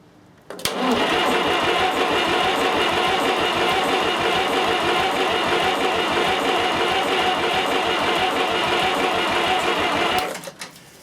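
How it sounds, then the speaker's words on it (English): Old International 275 diesel tractor engine starts abruptly and runs at a loud, steady, rapid clatter close by for about ten seconds, then cuts off sharply. "it's an old engine"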